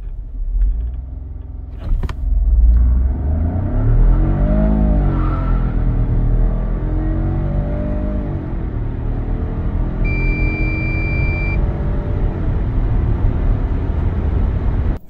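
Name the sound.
SUV accelerating hard, losing traction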